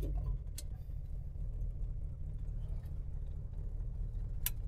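Low, steady idle rumble of a 1969 Dodge Charger engine just after being shifted into drive, running evenly and fairly quietly, with a couple of faint sharp ticks over it and no talking.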